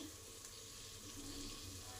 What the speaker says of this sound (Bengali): মশলাগুলোকে ভালো করে ভেজে নিতে হবে, নাহলে কাঁচা গন্ধ ছাড়বে